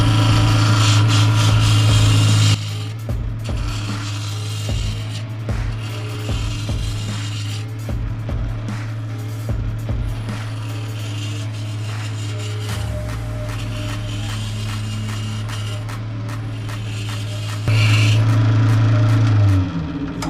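Osage orange wood spins on a lathe for a reel handle while a tool cuts it, giving a steady motor hum under repeated scraping and rasping strokes, louder at the start and end.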